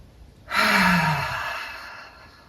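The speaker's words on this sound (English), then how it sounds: "making the breath audible on this last one as you breathe out" A single long, audible exhale during a standing yoga stretch, close and clear, rising suddenly and then fading gently over about two seconds.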